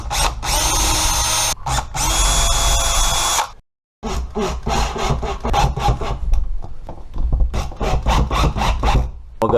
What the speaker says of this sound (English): Using a small bit, we're gonna go ahead and pre-drill those holes.